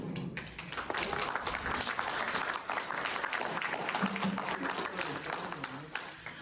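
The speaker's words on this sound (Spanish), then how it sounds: "Un aplauso." Seminar audience gives a round of applause, a steady dense wash of clapping from many hands that carries evenly for several seconds, while a voice speaks faintly over it.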